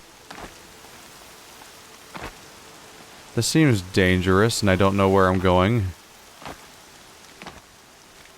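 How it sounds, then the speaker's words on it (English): Steady rain patters across the soundscape of the video game Horizon Zero Dawn, a soft continuous wash with a few louder drops, while a voice speaks briefly over it midway through. "Kinda wish it wasn't raining"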